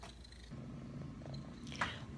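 A house cat purring close by, a steady low rumble lasting about two seconds, with a faint brief rustle near the end.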